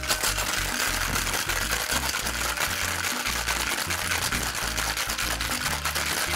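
A cocktail shaker packed with ice rattles in a steady, dense, continuous shake for several seconds, loud and close, with no speech over it.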